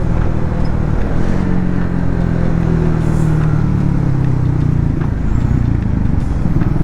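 A Triumph Speed 400 motorcycle engine drones loudly and steadily during riding, heard close up with a constant low rumble and wind noise and no voices.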